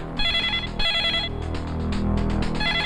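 A telephone rings steadily in a film scene, its repeating electronic bell pattern loud and close against a busy music background, with no one speaking.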